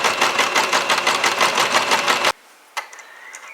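A sewing machine stitches a buff neck scarf in a rapid, even run of needle strokes, close and loud, then stops abruptly, leaving faint handling noises.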